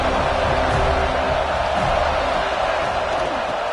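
Football stadium crowd at a Florida at Florida State college game, a dense continuous roar of cheering filling the whole stretch at a steady loud level.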